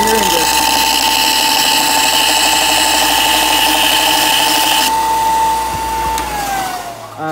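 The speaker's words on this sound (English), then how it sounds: "I'm going over here to the belt sander" A belt sander grinds down a part during a motor swap on an XL Crazy Cart, a loud steady whine running throughout with a pitch drop near the end, close by.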